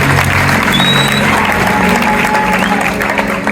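An audience at a gospel concert breaks into applause, dense continuous clapping from a crowd filling the room, loud and sustained throughout.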